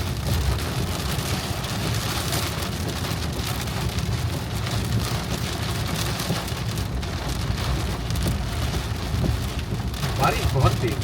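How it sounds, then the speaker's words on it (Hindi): Heavy rain pounding steadily on a vehicle during a road trip from Delhi toward Spiti Valley, a dense continuous roar with occasional sharper drops close by. "बारिश बहुत तेज, मजा आ"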